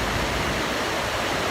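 Paterson Falls in Paterson, New Jersey, fast free-flowing water pouring over the falls, a loud, dense, unbroken roar heard up close with no voices.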